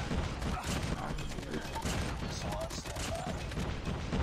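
Dense, continuous gunfire from the Call of Duty Mobile shooter game, loud sustained automatic bursts with layered game effects filling the whole stretch.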